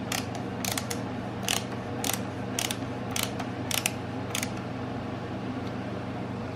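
A CVA Hawken muzzleloader barrel is tightened down to the breech, making a run of sharp metallic ratcheting clicks in short bursts over a low steady hum, close and fairly loud.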